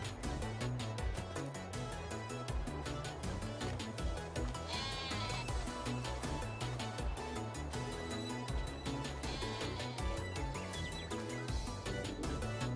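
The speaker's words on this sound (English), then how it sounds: "Here, have some more food, sheeps." Sheep bleat repeatedly while being fed, their calls close and overlapping in a busy, continuous chorus.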